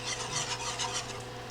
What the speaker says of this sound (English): Alright, keep whisking.